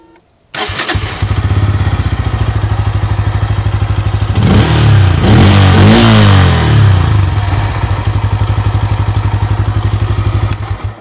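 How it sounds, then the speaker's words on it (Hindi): Bajaj Pulsar N160 motorcycle standing still, its exhaust note rising and falling through a couple of sharp throttle revs over a steady close, loud idle, with no talking. "इस बाइक का जो एग्जॉस्ट साउंड है वो भी बहुत ज़बरदस्त है, मैं आपको एक बार सुनाता हूँ।"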